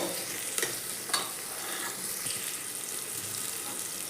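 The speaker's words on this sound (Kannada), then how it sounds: "ಜವಳಿಕಾಯಿ ಎಲ್ಲ ಚೆನ್ನಾಗಿ ಎಣ್ಣೆಯಲ್ಲಿ ಫ್ರೈ ಆಗಿದೆ" Broad beans frying in oil in a pressure cooker, a steady sizzle with a few brief scraping stirs.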